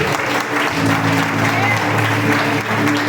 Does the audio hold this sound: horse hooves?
no